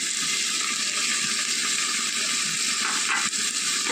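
Onions sautéing in a pan as chili powder goes in for a Kerala crow-meat chili curry, giving a steady, close, dense sizzle with faint stirring scrapes near the end.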